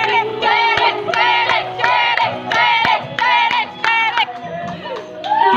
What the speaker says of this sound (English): Another big round of